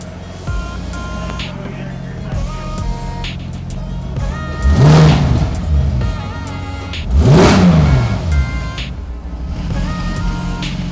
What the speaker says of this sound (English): The car is a little bit warmed up, so we can rev it a little bit.